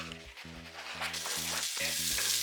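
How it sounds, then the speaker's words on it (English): Onions sizzle and crackle steadily as they fry in a pot for a beef and tomato stew, a dense hiss building louder, with music playing underneath. "Now I add the rest of the onions."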